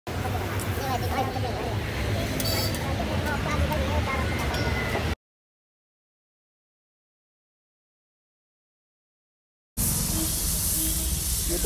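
Masala paneer kulcha sizzling in Amul butter, a close, steady frying hiss that runs for about five seconds, cuts to silence, then returns loud near the end.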